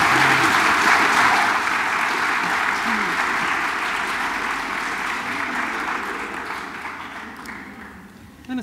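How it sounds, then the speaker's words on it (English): An audience applauds to welcome a minister. The clapping is dense and sustained, starts loud and slowly fades over several seconds. "So please give a very warm round of applause to Minister Fitzgerald."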